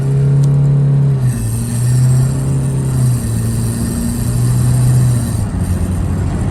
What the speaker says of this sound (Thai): เรามาดูว่าตาเร่งจะเป็นอย่างไรนะครับ ออโต้นะครับ เข้าดีไปนะครับ หมดเท้าแล้วครับ